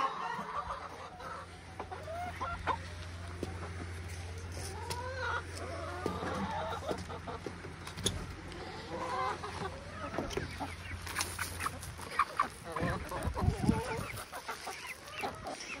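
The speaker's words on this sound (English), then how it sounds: "let's feed some chickens." Chickens, some with feathered feet, cluck steadily at feeding time on a farm, a busy close flock of overlapping clucks with a low hum underneath and a few louder bursts near the end.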